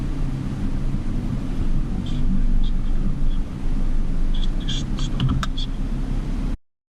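Land Rover on an off-road expedition, a steady low engine rumble and drivetrain drone heard from inside the vehicle, with a few faint clicks and knocks near the end before it cuts off.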